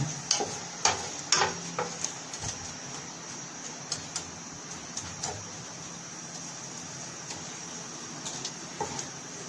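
Onion frying in a pan on the stove, with a steady faint sizzle and a scatter of small pops and utensil clicks, heard close and quiet with no voices.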